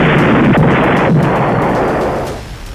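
A missile interception explosion booms across the sky, a loud, rumbling blast that rolls on for a couple of seconds before fading at the end, heard alone without voices.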